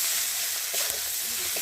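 Green chillies fry with salt and turmeric in a pan, a short, steady sizzle with a couple of light stirring scrapes.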